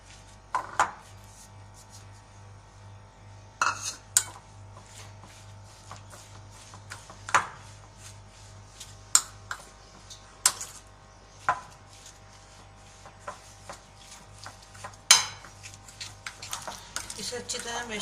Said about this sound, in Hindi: इसे अच्छी तरह मैश कर लेंगे।